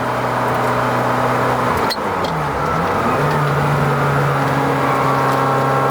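A Ferrari F355 engine drones steadily while driving, with a brief shift in pitch partway through as it changes speed, heard from inside the car.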